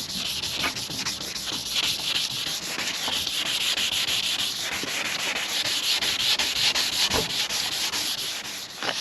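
Close, steady hand sanding of a car headlight lens with 600-grit sandpaper, a continuous loud gritty rubbing with quick back-and-forth strokes and no talk.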